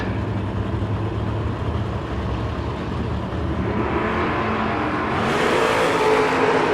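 A drag race pits a Chevrolet Camaro against a truck, with loud engine roar building as the vehicles accelerate, swelling into a brighter, harsher rise toward the end.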